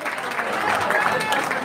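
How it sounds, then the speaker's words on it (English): Wedding banquet guests applaud, a dense, steady wash of clapping filling a short burst, with a voice over a microphone and music in the hall. "How about a round of applause for Chris and Shar Yim?"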